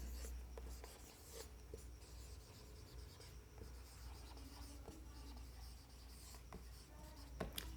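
A pen or chalk scratches and rubs across a board as chemistry notes are written during a Hindi lesson on ketones. The strokes are faint and uneven, close by, with no voice over them.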